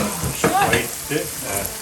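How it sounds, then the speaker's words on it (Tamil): Spices crackle and sizzle loudly in hot oil, close up, a continuous fizzing spatter, tempering for a Sri Lankan dal. "அந்த பருப்புக்கு தாளிக்க போறேன்"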